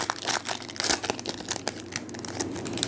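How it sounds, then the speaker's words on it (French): Packs of 2021-22 Upper Deck Extended hockey trading cards torn open, foil wrappers crinkling and crackling in close, continuous bursts with sharp tearing transients. "2 packs chaque maintenant à s'ouvrir"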